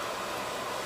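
A hair dryer fitted with an add-on attachment blows in a continuous, steady broadband rush close to the microphone, alone and without talk for under a second.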